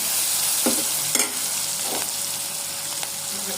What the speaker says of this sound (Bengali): এটাকে আমি দেখো পেঁয়াজ কুচি লাল লাল করে একটু ভেজে নিয়ে